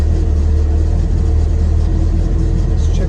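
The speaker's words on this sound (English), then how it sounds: "Engine's idling down when I turn the AC on." Car engine idling with the air conditioning switched on, a steady loud low rumble close to the microphone with no break.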